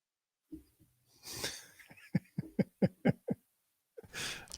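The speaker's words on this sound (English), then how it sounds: "coughing, which hopefully you didn't hear" A person sniffs and breathes in, then lets out a rapid burst of short, choked coughs or wheezy laughs, followed by another sharp exhale, close up.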